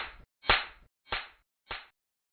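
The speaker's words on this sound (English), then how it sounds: "The sound of slap echoed around the garden." Four sharp slap sound effects land one after another at an even pace, each a crisp, loud smack with a short decay and silence between.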